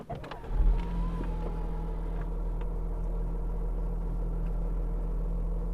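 An Audi engine cranks and fires, with a brief rising rev, then settles into a low steady idle rumble close by.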